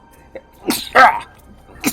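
A single sharp sneeze bursts out at close range, with brief breathy sounds just before and after it.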